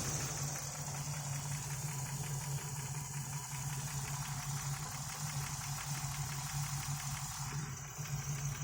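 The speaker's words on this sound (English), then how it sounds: "You can hear it running rough right now." A steady low Jeep YJ engine idle running rough, with an uneven, knocking pulse running continuously throughout, close and fairly quiet, no voices.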